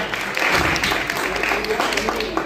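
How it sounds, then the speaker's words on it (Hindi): An audience at a party breaks into steady clapping, a dense wash of applause running the whole moment with a voice talking over it. "भाई ताली तो बजाओ"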